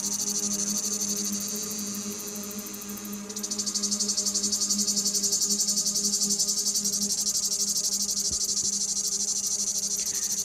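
Cicada song fills the air, a high, rapidly pulsing buzz that drones steadily, drops briefly, then swells back louder and holds for the rest of the stretch over a low background hum.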